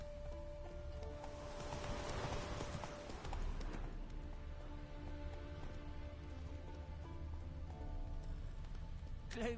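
Hooves of Roach, Geralt's horse in The Witcher III: Wild Hunt, clip-clopping in a steady walking rhythm, moderately close, over soft rain-like ambience with a brief whinny-like tone.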